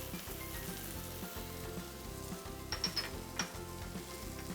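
Spices sizzling in a hot frying pan with oil, a steady close hiss and crackle throughout, joined near the end by a few light clinks of a utensil stirring, no talking.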